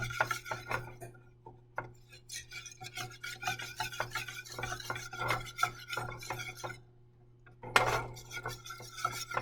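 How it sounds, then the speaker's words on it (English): A whisk or spoon scrapes and taps steadily in a pan while hollandaise sauce is mixed, a close, irregular clatter of strokes with a faint steady hum behind. "I'm going to start mixing it around"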